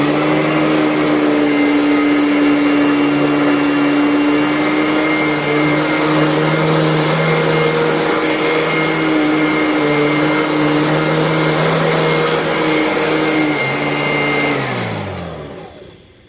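A Royal Pro Series upright vacuum cleaner, set two clicks down with the nozzle lowered, drones loudly and steadily over carpet for about fifteen seconds, then winds down as it is switched off.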